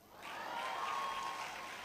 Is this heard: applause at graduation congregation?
yes